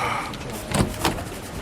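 A door opens and shuts, two quick knocks and thuds close by in a room, with no talk.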